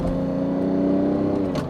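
A Lamborghini Diablo 6.0 V12 holds a steady, droning rev close by, loud and alone for under two seconds.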